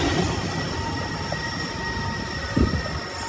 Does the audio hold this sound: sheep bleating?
no